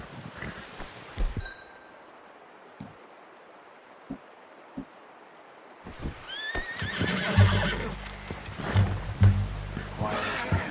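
Hooves thud and clop in Red Dead Redemption 2, then after a quiet stretch a horse whinnies with rising, tonal calls amid rustling and movement noise, heard fairly close.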